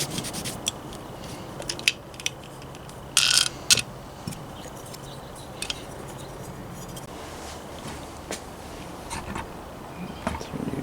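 Small screws being started by hand on the gasket cover of a Poulan 42cc chainsaw during a teardown, giving faint scattered scraping and metallic rubbing with a few brief sharper clicks in a quiet room.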